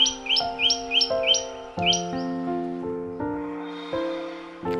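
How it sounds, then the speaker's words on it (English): Small birds chirp and tweet near their nest in a terrace garden, a bright repeated run of close, clear calls over a steady hum, fading into quieter single notes. "While I was watching these birds build their nest and the family"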